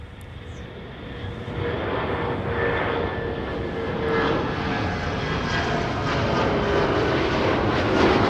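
Endeavor Flight 5017 departs Minneapolis–St. Paul airport, bound for Louisville: a steady, loud jet engine roar that swells slightly as the airliner climbs away, with no voices.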